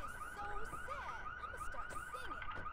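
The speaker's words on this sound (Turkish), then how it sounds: "Ne kapatıyor bu arabanın alarmını?" Car alarm on a stolen car in the video game GTA IV, a looping electronic warble of rising and falling tones repeating steadily, moderately distant, with no talk over it.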